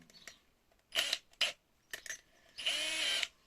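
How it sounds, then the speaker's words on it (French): Short bursts from a handheld power drill with an 8 mm bit boring through a metal angled-drilling jig, three or four separate close, loud whirring pulses with the longest at the end. "Je prends ma machine et je commence par la mèche."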